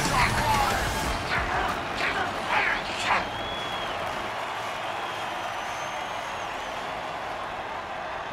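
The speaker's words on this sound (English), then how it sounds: "And the crowd goes wild! Touchdown!" Crowd noise in an American football video game after a touchdown, with a broad roar and a few bright cheering bursts in the first three seconds before it settles into a steady, continuous wash of crowd sound.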